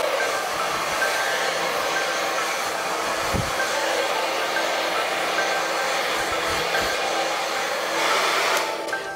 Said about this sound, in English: Blow dryer, looks like so.